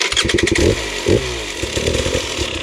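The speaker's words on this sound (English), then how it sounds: "I'm always in the habit of just giving a little bit of rev." Dirt bike engine revving in first gear on a downhill, a close, loud, throaty motor with rapid sputtering pulses and repeated rises and falls in pitch, no talking.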